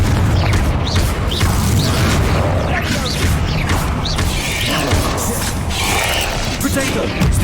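Loud, dense combat din from Hogwarts Legacy on PS5: repeated blasting-spell bursts and crashes crowd together over a constant roaring bed, with sharp impacts recurring throughout and voices mixed into the battle.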